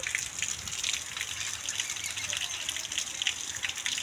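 Steady rain falls continuously in a rural yard, making an even, hissing patter with no breaks and no clear voices on top.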